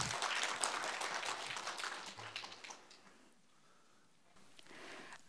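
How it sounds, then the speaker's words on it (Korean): Audience applause at a Korean college innovation-project results forum, steady broadband clapping from a seated crowd for several seconds, then thinning out and briefly swelling again near the end. "박수 부탁드립니다"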